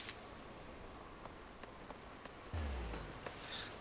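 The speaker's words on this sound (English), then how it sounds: "fishing in the rain" Steady, soft rainfall in the video game Final Fantasy XIV, a continuous hiss of drops with a faint low thump partway through and no voices.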